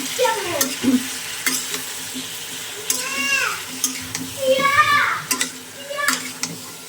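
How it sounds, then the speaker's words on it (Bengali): Tomato added to a pan of frying cabbage, giving a loud sizzle with repeated scraping stirs and utensil clatter, while voices speak faintly in the background. "টমেটোটা দিয়ে দিলাম"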